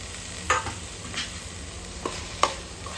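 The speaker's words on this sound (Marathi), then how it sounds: "आता यामध्ये मी मटकी घालते वाफवलेली" Steamed moth beans are stirred into masala sizzling in oil for spicy misal: a soft, steady frying hiss with a few sharp spoon scrapes and knocks against the pan, close up and with no talk.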